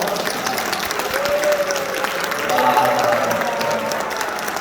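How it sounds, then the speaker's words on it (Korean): A church congregation gives a round of applause, steady, dense clapping filling the whole stretch at full volume, with a voice faintly speaking through it. "박수 한번"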